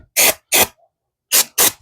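Brake cleaner is sprayed onto car brake parts after a rotor change: four sharp hissing bursts, each a fraction of a second, come in two pairs separated by a short silent gap, loud and close.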